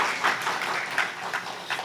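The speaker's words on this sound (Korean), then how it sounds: "박수 해주시면" A church congregation at a Sunday worship service applauds steadily, a dense, even wash of many hands clapping together for the whole moment, close and moderately loud.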